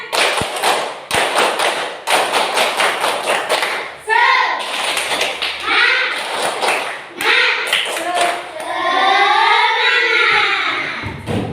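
Schoolchildren in an Indonesian classroom repeating the 'tepuk semangat' clapping routine, sharp patterned group claps and thumps at close range, then a stretch of loud unison chanting and cheering from the class.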